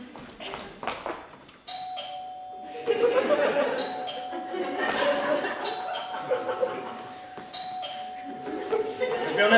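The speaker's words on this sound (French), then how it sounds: "La sonnerie retentit, je souris automatiquement" A shop doorbell chimes repeatedly over a busy, noisy room with a voice and soft chuckling beneath it, the ringing tone holding steady through most of the scene.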